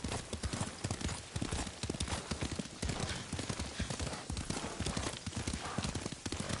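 Rapid rhythmic clip-clop of horse hooves at a steady gallop in the video game Ghost of Tsushima, close and loud, with some rustling and muffled background sounds.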